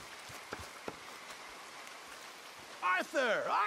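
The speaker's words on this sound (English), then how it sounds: "Come on, it's raining." Rain falls steadily and softly in the Red Dead Redemption 2 game world, a faint even patter with a few sharper drops, before a voice speaks over it at the end.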